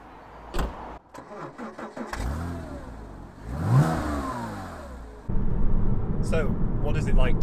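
A Porsche Cayman S 987 starts up and revs while driving in snowy UK weather, the engine note rising and falling close by, followed by steady louder driving noise, with someone talking over it.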